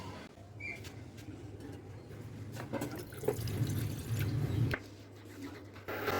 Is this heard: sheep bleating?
no